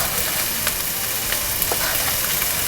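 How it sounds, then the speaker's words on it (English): Onions sizzle in olive oil in a hot pan, a dense, steady close-up frying crackle with scattered small pops and no voices. "now I'm going to put in some olive oil inside the pan. And then let's put in the onions"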